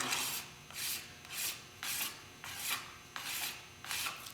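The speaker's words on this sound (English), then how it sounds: "you want to make sure that you scrape your board so that it's nice and clean" Body filler scraped off a mixing board with a scraper, heard as about seven short, even rasping strokes close by, each followed by a brief gap.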